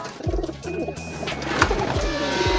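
A pigeon arrives at a racing loft and coos in soft, rhythmic, low throaty bursts close by. A few higher chirps and faint bird sounds are mixed in behind it.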